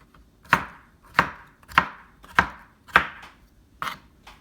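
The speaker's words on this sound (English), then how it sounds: "I can slice it and then cut into small cubes" Knife chopping through a slice of food on a cutting board while dicing it into small cubes for a homemade chicken barbecue pizza, seven crisp, evenly spaced cuts about half a second apart, close and clear with no talk.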